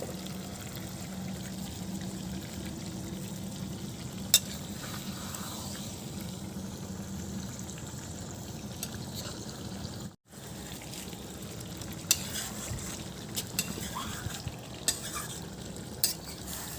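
Meat (Assamese-style saukat mankho) frying in a pan with coriander leaves added, a steady low sizzle and bubbling running throughout with occasional stirring clinks, close and moderate in level, no talking.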